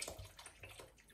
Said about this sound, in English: Now we pour in cheap ass white rum.